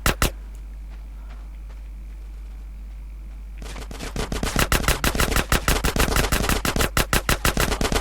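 Automatic gunfire from GTA San Andreas rattles out in a rapid, loud burst of shots following a quieter stretch with a couple of isolated shots near the start.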